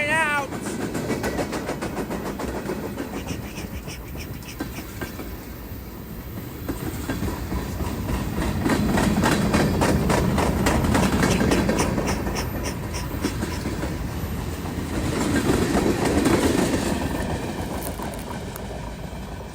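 A CSX westbound mixed freight train rolls past, steady rumble and rhythmic clickety-clack of wheels over rail joints swelling and easing, with a horn note at the start and faint talk at times.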